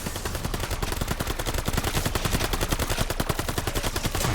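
Sustained rapid automatic gunfire in Call of Duty Vanguard Zombies, a dense, loud, evenly spaced stream of shots running without a break for several seconds.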